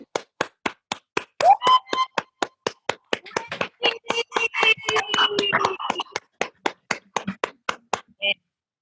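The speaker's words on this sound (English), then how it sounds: "I want you guys all to just give Wendy a huge round of applause" Online meeting participants clap together after being unmuted, a run of distinct rhythmic hand claps at close range, with faint overlapping voices partway through.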